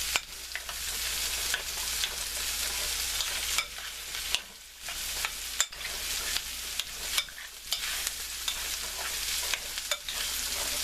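Sugar being stirred into a black bean mixture in a pan, a steady scraping and swishing that runs continuously with brief pauses, close and fairly loud, with no voices.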